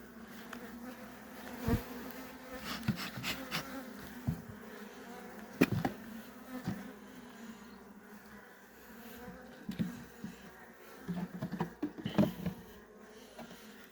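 Honeybees swarm and buzz around an open hive during an inspection, with frames of wax foundation being added. The dense, steady droning runs throughout, broken by scattered close clicks and knocks of hive parts being handled. No one speaks.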